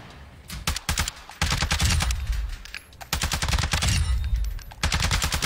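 Rapid automatic gunfire at a firing range in a video game, loud and close, fired in long bursts with brief pauses between them.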